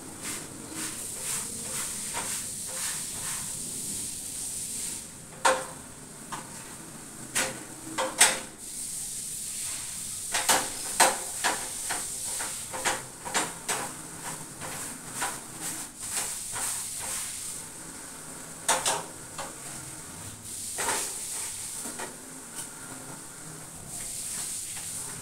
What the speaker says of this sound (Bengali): আজকে আবার কাপড় দিয়ে রুটি ভাজছি